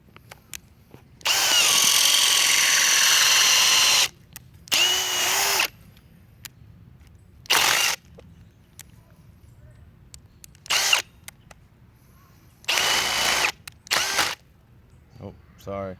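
A brushless hammer drill runs in several bursts, one long whine of about three seconds followed by shorter loud spurts separated by quiet pauses.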